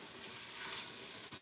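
Celery, onions and carrots sizzle steadily in a pan, a soft continuous frying hiss that holds even throughout before a brief clatter near the end.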